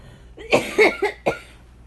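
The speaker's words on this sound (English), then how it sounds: "Sorry, back to the coughing." Four quick coughs in a row, close and fairly loud, with short pauses between them and quiet otherwise.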